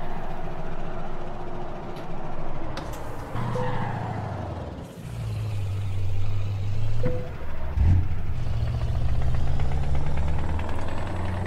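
Truck engine droning steadily in Euro Truck Simulator 2, a low continuous hum with shifting pitch as it drives, gear changes and brief mechanical clicks, game audio alone without talk.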